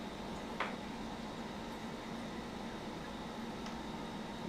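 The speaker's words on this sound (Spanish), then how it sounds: "Bueno, sí, es el aire acondicionado." An air conditioner runs with a steady, even broadband hiss and low hum, continuous and unchanging, with a faint click near the start.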